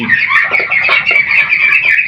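White Chinese ducks on a farm call close up with a dense, continuous run of nasal honking and clucking, loud and unbroken, with no talking.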